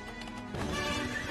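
A horse whinnies and hooves clip-clop in the Big Horsey Fortune slot video game, a short loud game sound effect layered over jingling music.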